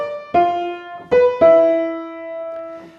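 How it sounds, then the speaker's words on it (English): Second violin part of Tchaikovsky's Pathétique symphony, played alone: three sustained bowed notes, the last one held long and slowly fading. "And the second violins sound like this."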